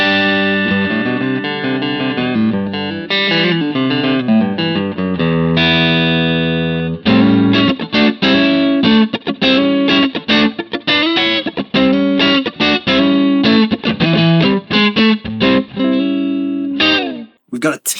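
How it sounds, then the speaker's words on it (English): Bass played through the Harley Benton DNAfx GiT Pro's USA 59 amp model, a Fender Bassman-style amp, with reverb on: loud sustained melodic notes at first, then a faster, choppier run of picked notes. "So the first thing we're hearing is the USA 59, which is kind of like a Fender Bassman style amp."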